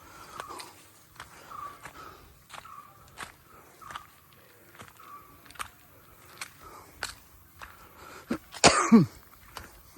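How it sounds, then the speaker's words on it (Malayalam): A person with a cold and fever coughs and clears their throat indoors at home, a series of short dry bursts spaced through the quiet, ending in a louder harsh cough close to the mic. "ചുമ മാറുന്നില്ല. ജലദോഷപ്പനി എല്ലാം കൂടെ പിടിച്ചിട്ടേ ഒരു രക്ഷയില്ല."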